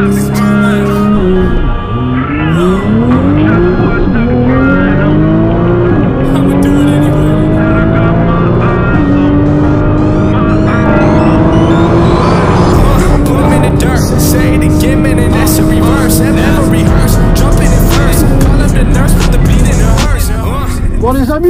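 A Nissan GT-R Nismo is driven hard on a track, its engine roaring loud and close through repeated rising gear pulls, with tire squeal and a voice talking intermittently over it.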